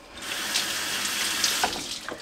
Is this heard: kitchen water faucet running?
yes